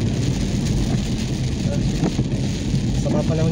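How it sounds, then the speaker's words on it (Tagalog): Heavy rain pounds a car driving along a main road toward a boat, a steady close roar of downpour filling the whole clip with no break. "Sobrang lakas ng ulan."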